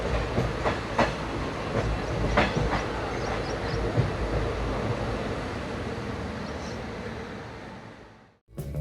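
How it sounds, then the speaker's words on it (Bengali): The Howrah–Chakradharpur Express running on rails, heard from on board as a constant rumbling roar with rhythmic clicks of wheels over rail joints, ending in a sudden cut. "হাওড়া থেকে রাতের ট্রেন 18011 হাওড়া চক্রধরপুর এক্সপ্রেসে চেপে সকাল 7:40 নাগাদ এসে পৌঁছলাম"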